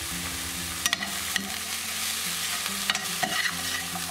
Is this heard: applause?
no